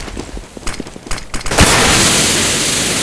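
In a Counter-Strike: Global Offensive match, a flashbang grenade lands amid scattered clicks and taps, then bursts into a loud, sustained hissing ring that fills the rest of the moment.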